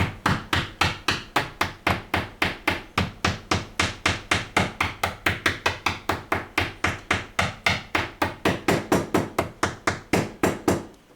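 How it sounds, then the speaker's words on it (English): Rapid, even series of sharp hammer taps tapping pole pieces into a guitar pickup, dozens in a row, close and crisp with a steady rhythm and no voices. "just grab a hammer."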